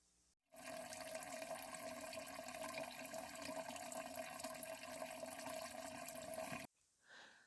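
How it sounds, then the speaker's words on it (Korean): Water pours steadily into an aquarium from a 6-litre water-change container, a continuous close splashing stream running for several seconds and then cutting off abruptly. "물이 떨어지는 모습을 좀 더 가까이에서 자세히 보여드리도록 할게요."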